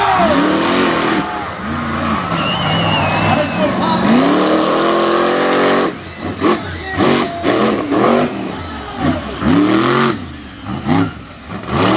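Race vehicle Hurricane Force, driven at a North vs South event at Front Royal, roars off the line and revs hard, loud and close, with pitch rising and falling as it accelerates, while an announcer talks over it throughout.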